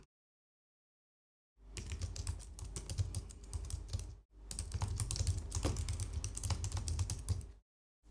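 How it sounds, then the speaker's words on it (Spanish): Code being typed on a computer keyboard: two long, fast bursts of soft, close keystrokes separated by a short pause, quiet and without speech. "vamos a introducir, a teclear el nuevo fragmento de código"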